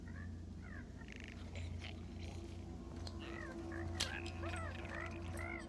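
Cat-like creatures in the sci-fi video game The Outer Worlds give repeated short, soft meows and coos over a steady low game hum, scattered and fairly faint.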